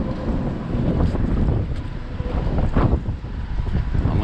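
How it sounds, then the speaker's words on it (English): Strong wind on a lake while fishing from a boat buffets the microphone in a steady low roar, with faint water slapping underneath and no voices. "Windy conditions like this"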